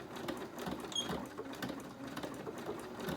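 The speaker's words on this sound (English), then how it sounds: "I just hit zigzag, and here we go. And I'm going to back stitch" A sewing machine runs a zigzag stitch through fabric for a Christmas journal cover, giving a steady, close, rapid mechanical chatter that continues without a break.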